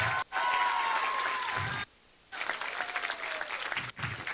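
An audience at a senior promotion ceremony at Harvest Preparatory Academy claps for Mr. Santos, a dense wash of applause with brief gaps and faint vocal tones over it.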